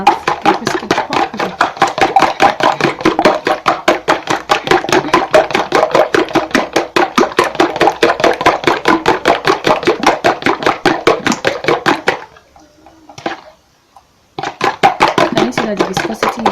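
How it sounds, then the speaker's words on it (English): Five eggs are whisked together for a peanut burger, a loud, fast, even beat of whisk strokes that stops briefly near the end and then starts again. "So there are 5 eggs in here. So I'm gonna whisk them together."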